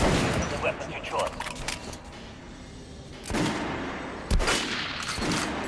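Weapons test-fired on a shooting range in the video game Metro Last Light, sharp bursts of gunfire in quick clusters with mechanical clicks between, while someone talks.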